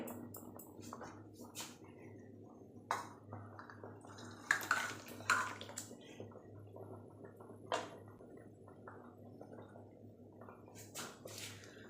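Thick katla fish and brinjal curry pours from a pan, making soft, wet glugging and occasional dripping splats, quiet and close with no talking.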